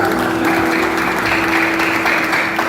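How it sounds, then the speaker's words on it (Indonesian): A church congregation claps at a Christmas service, a loud, dense, continuous wash of applause filling the whole stretch without pause. "Berikan tepuk tangan"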